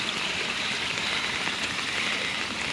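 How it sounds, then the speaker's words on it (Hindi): Heavy monsoon rain water pours down from above in a dense, continuous rushing hiss, close and loud, with no voices over it. "यहाँ देखिए ऊपर से बहुत ही ज़्यादा पानी आ रहा है"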